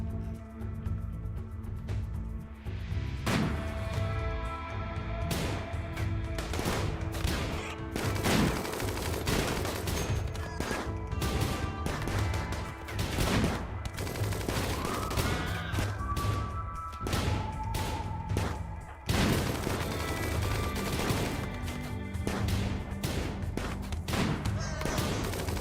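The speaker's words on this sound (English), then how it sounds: "start blasting this dude over here with the grenades" Grenade blasts and gunfire crash repeatedly in a RimWorld battle, dense loud bursts and thuds over a busy game soundtrack, with sharp explosions recurring through the fight.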